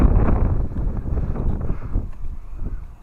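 Gusty wind buffets the microphone outdoors on a blustery day, a steady low rumble with fluctuating rushes throughout and no other clear sounds.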